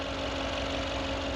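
A Mercedes-AMG G63 G-Wagon engine idles in a steady, even low rumble with a faint, regular pulse, held at constant loudness and heard alone.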